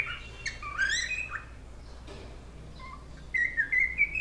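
A pet cockatiel calls from close by with squawky chirps and sliding whistles, in short clusters separated by a quiet pause, ending in a louder run of whistled notes.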